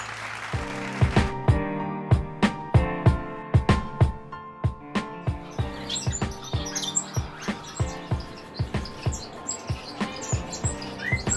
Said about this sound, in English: The Lady Gouldian Finches